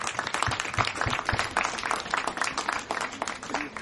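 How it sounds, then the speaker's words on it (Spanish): Steady applause from a crowd gathered in Curahuasi, Apurímac, at a national campaign launch event, dense continuous clapping filling the whole stretch with a few louder low thumps near the start. "pido un aplauso para el pueblo de Curahuasi"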